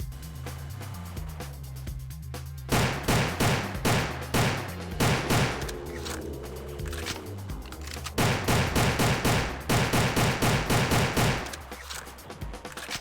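Rapid gunfire from a long-range weapon in the Roblox game The Final Stand 2, loud sustained bursts of shots with brief pauses between volleys, dense and continuous over most of the stretch.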